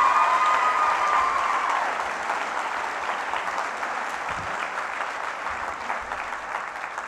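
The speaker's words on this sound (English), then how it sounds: "I say we give one last final round of applause to all the teachers" A school senior assembly audience gives a final round of applause for the teachers, a loud, dense wash of clapping that starts strongest and settles into a steady, slightly softer roar with a faint tone under the opening seconds.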